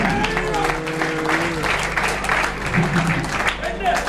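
Congregation clapping during a Spanish-language church communion service, a loud dense wash of applause mixed with voices and musical tones underneath, continuing steadily from start to finish.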